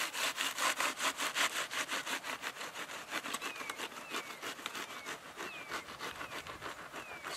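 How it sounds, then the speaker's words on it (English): A heavy serrated knife sawing steadily through a papery wasp nest outdoors, with rapid rhythmic rasping strokes close up and loud throughout, while faint buzzing whines drift through in the background. "cut through it cleanly with the heavy serrations"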